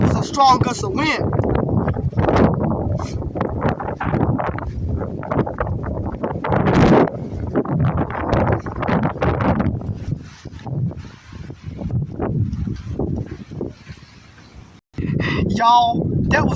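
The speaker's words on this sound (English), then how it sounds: "was a really strong wind gust back there." Gusty wind pounds against the microphone in loud, rough surges that ebb and return across the span, with someone speaking amid the roar and a sudden cutoff near the end.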